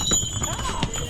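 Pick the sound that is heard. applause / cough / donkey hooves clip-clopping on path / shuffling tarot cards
donkey hooves clip-clopping on path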